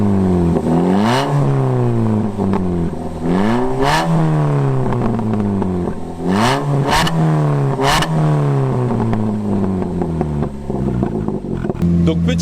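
A 2.2-litre Opel Speedster with a modified intake and rear exhaust revs hard in repeated climbing pulls that drop off between bursts, loud and close throughout.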